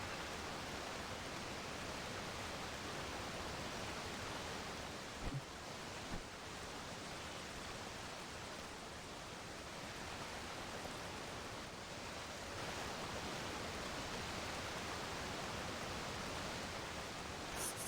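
A waterfall rushes inside a cave build in a game world, a steady, dense hiss of falling water that holds constant throughout with only a couple of faint knocks and no voices.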